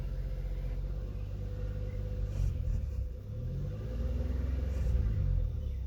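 Engine of a 2000 Chevrolet Impala with a transmission problem rising and falling as the gas pedal is pushed, a steady low rumble with a couple of gentle revs, fairly close and alone.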